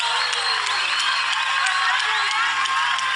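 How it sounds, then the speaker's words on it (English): A boxing-event crowd in South Africa applauds and cheers two fighters after the bout, with dense clapping, whoops and shouts that stay loud and continuous throughout. "a massive round of applause for these two warriors"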